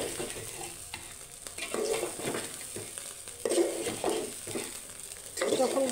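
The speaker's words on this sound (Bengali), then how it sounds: "তার জন্য চাউলটা ভেজে নিচ্ছি" Rice fries in a pan for khichuri, an irregular sizzle with scraping stir strokes of a spatula coming in bursts, close and fairly quiet.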